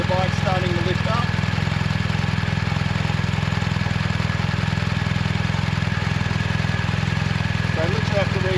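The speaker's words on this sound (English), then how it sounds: "you can hear the engine actually go under some load because it's working" A BMW adventure motorcycle engine drones steadily and loudly throughout, straining under load with a constant mid-pitched roar and faint wind noise.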